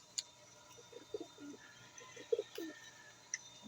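Pigeons kept by a fancier coo in a series of low, soft murmuring notes spread across the moment, with a few faint higher chirps and background hum.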